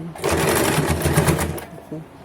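An electric sewing machine runs in one short burst, stitching a straight salwar with a fast steady whirring rattle up close, then stops with a faint click.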